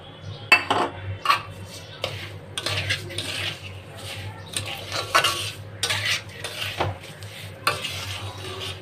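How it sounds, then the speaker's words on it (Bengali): Roasted semolina with sugar and cardamom being stirred in a pan: a metal spoon scrapes and clinks steadily against the pan, close and fairly loud, with a faint sizzle beneath and no one speaking. "চিনি দিয়ে এলাচ দিয়ে মিক্সড করে নিলাম।"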